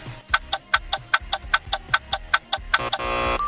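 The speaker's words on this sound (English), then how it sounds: "Horned screamer." A horned screamer calls with a loud series of evenly spaced, honking pulses, about a dozen in a steady rhythm, ending in a longer drawn-out note.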